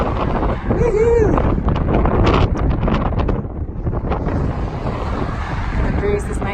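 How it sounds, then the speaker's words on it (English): Wind buffets the microphone outdoors while hiking downhill into a cool headwind, a loud, gusting rumble that swells and eases over several seconds, with a brief higher tone near the start. "The breeze is nice and cool, even though it is a headwind."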